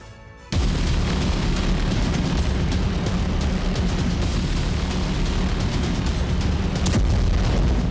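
A continuous loud roar of blasts and rumbling booms from a drone attack in Kazan, Russia, dense and sustained after a brief quiet start, with no voices.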